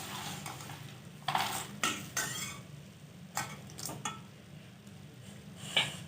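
Spoon scraping and clinking against a pan while roasted puffed rice is stirred with masala, a handful of irregular sharp scrapes and taps over a low steady background hum.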